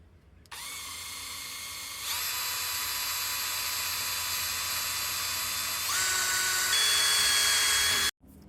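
A power drill bores a hole in a metal wine barrel ring, a steady high whine close by that steps up in pitch as the bit bites, running about eight seconds before stopping abruptly.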